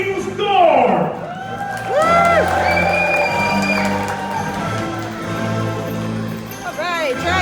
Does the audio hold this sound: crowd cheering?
yes